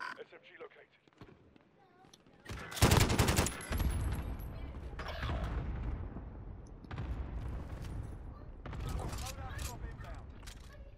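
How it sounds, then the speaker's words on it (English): Bursts of rapid gunfire and explosions from Call of Duty: Modern Warfare, loud volleys separated by quieter stretches with faint voices underneath. "I got some gunfire from right here."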